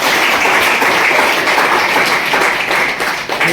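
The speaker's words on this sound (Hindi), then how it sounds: "तो जोरदार तालियां हो जाए" An audience at a Kangen business presentation claps loudly and steadily, dense applause filling the room without pause.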